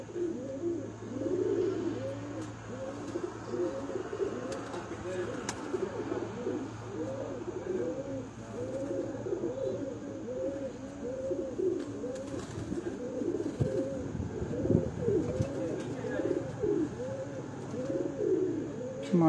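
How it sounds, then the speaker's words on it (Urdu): Racing pigeons cooing steadily in a loft, a dense rhythmic chorus of overlapping coos close by, continuous for the whole stretch with a faint steady hum beneath. "یہ بھی جی تری نمبر کبوتر ہیں جی استاد عارف گل صاحب کے"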